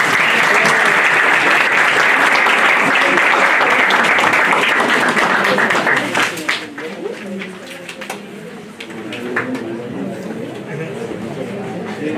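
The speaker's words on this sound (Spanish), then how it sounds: "Le damos un aplauso bien fuerte." Strong audience applause at a university biology department talk on education, dense clapping that fades after about six seconds into scattered claps, murmuring voices and chatter.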